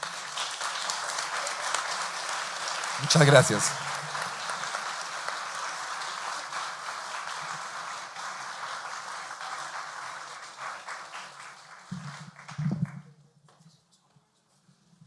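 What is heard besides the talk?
audience applause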